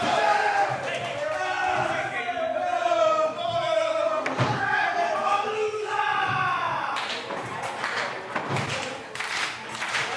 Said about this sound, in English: And the crowd appreciates it.